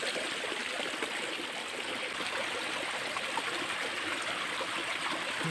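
Water flowing steadily out of a broken water channel in a Himachal village, a continuous close rushing and trickling with no talk over it.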